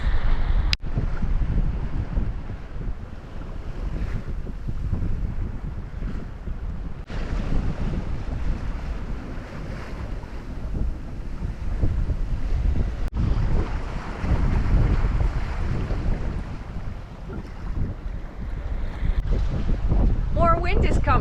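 Wind blows at sea aboard a sailboat, a continuous rough rumble buffeting the microphone, with waves washing and occasional knocks, loud and steady throughout.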